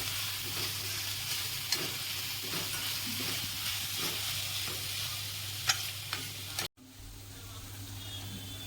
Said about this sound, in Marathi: कांदा लाल होईपर्यंत तळायचा।